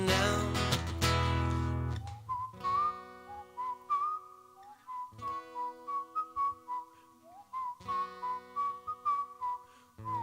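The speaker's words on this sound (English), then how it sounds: "I'm impressed with your whistling skills." Someone whistles a bright, bouncy tune at a live holiday concert, a string of short clear notes and quick slides following a loud opening chord.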